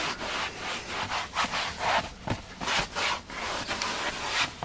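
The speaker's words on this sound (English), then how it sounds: "Just a damp microfiber cloth, like so." A damp microfiber cloth wiped firmly across a car's leather seat, giving close, rhythmic rubbing swishes in quick back-and-forth strokes with no talking.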